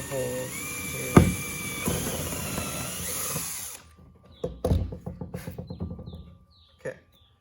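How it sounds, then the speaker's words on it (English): A power drill bores a hole in wood for a homemade hand saw guide, whining in a sustained run and then in a series of short bursts, with a person speaking near the start. "drill a hole here"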